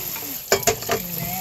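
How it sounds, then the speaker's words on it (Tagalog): Dishes being washed by hand while seated, with a few quick clinks and splashy scrapes of plates in the middle against a steady background hiss. "ang maghugas ng plato"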